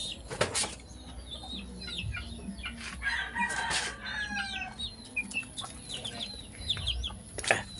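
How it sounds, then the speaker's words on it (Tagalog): Chickens around a house yard, with several clucks and short calls scattered through, a rooster crow among them, and occasional wing flaps; birds are at moderate distance over steady outdoor background, with no talking. "Ito pa, mga manok pa ito."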